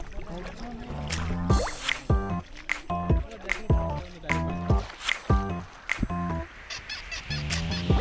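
Someone wades through floodwater along a flooded roadside, with repeated sloshing and splashing steps close by, while people talk throughout.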